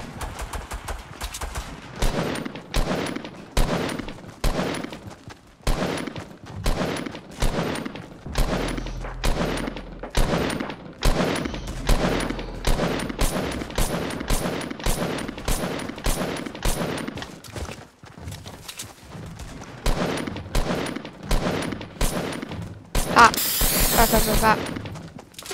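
Rapid gunfire from a PC shooter video game, dense bursts of shots repeating almost continuously and loud up close, with a brief sharp crash near the end and talk mixed underneath.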